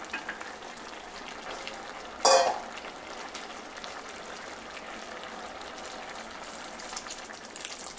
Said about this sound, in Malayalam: ഇനിയിപ്പം നമുക്കിതിലേക്ക് ഒന്നാം പാൽ ഒഴിക്കാം.